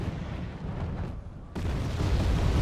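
Artillery fire in the video game Wargame Airland Battle: a dense, rumbling barrage of blasts that swells sharply louder about halfway through and stays heavy to the end.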